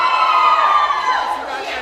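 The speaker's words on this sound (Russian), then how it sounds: "где больше шума, где больше аплодисментов" Audience at a hosted entertainment show shouting and cheering loudly, a burst of massed voices that peaks early then gradually tapers off.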